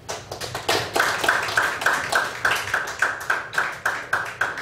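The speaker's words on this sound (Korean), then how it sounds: "나오실 때 뜨거운 박수로 환영하시겠습니다." Applause welcoming a former graduate school dean to the lecture podium at a Korean church forum, a brisk, rhythmic round of clapping from a modest audience, steady and fairly close.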